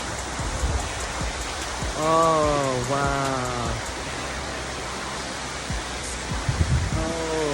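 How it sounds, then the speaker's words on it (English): Coral Waterfalls in Stevens County, a steady rushing roar of falling water outdoors, continuous and fairly loud, with someone speaking over it in short exclamations partway through. "And look at the waterfall."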